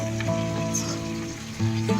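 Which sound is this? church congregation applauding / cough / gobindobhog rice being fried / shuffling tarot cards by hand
gobindobhog rice being fried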